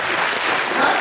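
Audience at a town first-anniversary civic event breaking into applause, a loud, dense, continuous sheet of clapping from a sizable crowd filling the whole second with no pauses.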